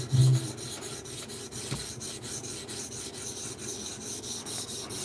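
Knife blade being reprofiled on a TS Prof sharpener stone, a steady continuous rasping scrape of steel across abrasive, with rhythmic back-and-forth strokes at close range and no talking.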